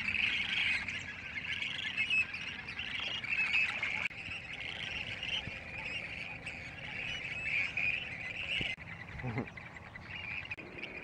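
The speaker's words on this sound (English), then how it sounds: "Here are some crows feeding on the eggs at a nest." A dense chorus of harsh American crow calls at a grebe nesting colony carries on continuously, many overlapping squawks at moderate distance over a steady outdoor hiss.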